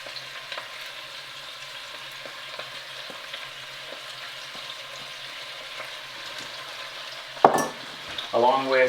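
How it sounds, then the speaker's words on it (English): Onions sizzling in coconut oil in a pan, a steady close frying hiss with small crackles, broken near the end by a brief clatter and scrape. "Listen to that sizzle."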